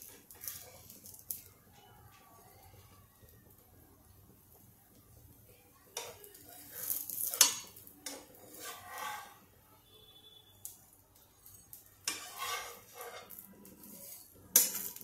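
Green moong dosa flipped on a hot pan, scattered light taps, clinks and scraping of a spatula against the pan in a few short bursts, with faint sizzling beneath and brief moments of quiet.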